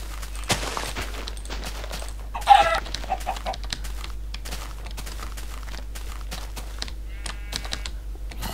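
Rapid keyboard typing and clicks run throughout, with brief clucking bursts mixed in, the chicken sounds small and synthetic, from a chicken in Minecraft.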